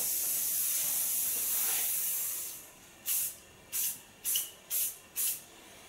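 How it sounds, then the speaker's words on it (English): Hairspray from an aerosol can is sprayed onto a client's styled hair in a salon, first as one long steady hiss, then as five short even bursts close by. "Now I only need a little bit of hairspray, not too much, to fixate it a bit."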